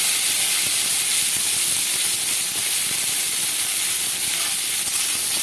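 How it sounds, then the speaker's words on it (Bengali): Cauliflower florets frying in leftover onion-flavoured oil for a vegetable biryani, giving a steady, loud, close hiss and sizzle that runs unbroken throughout with no voices. "যে পেঁয়াজের তেল, সেই তেলটাই এখানে আমি ফুলকপিটা আমি এখানে ভেজে নিচ্ছি"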